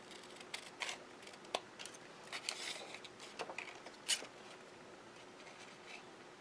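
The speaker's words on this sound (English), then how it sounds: "now I'm going to just finish those lines with my scissors" Quiet, scattered snips of scissors cutting through stiff card paper, irregular short crunches close by in a hushed room.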